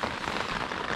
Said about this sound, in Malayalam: ഞങ്ങൾ പുറത്തെ കാഴ്ച നല്ല മഴയാണേ, ഒന്നും കാണാനില്ല, ചുറ്റുമുള്ളത് ഒന്നുമില്ല, ഫുള്ള് മഴ മാത്രം